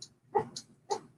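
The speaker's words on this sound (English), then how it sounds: "Can you hear that dog?" A dog barks three times outdoors, fairly distant and moderately loud, with short gaps between the sharp yips and quiet in between.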